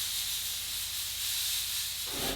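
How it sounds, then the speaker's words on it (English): An air compressor nozzle blasts a continuous loud hiss of air through a clogged carburetor jet from a Honda ATC 200ES Big Red, steady for about two seconds before cutting off abruptly. "I'm gonna go hit this with the air compressor and we will see if we can blow them out."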